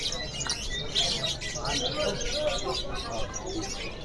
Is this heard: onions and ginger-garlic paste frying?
no